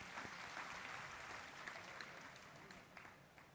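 Lecture audience clapping together in sustained, dense applause, steady throughout at moderate loudness with no talk over it.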